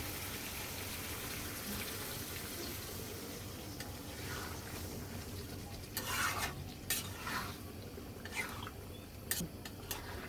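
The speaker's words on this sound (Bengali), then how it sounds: "এখন ঝোলের জন্য পানি দিয়ে দেব।" Water goes into a curry pot for the gravy and is stirred, a soft steady wash with a few sharper clinks of a spoon against the pan toward the end, close and fairly quiet, with no talking.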